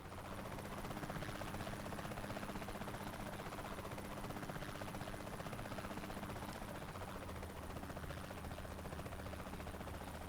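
Helicopter in the video game Saints Row The Third, a loud, steady rotor and engine drone with a low throbbing hum that holds unbroken for the full length.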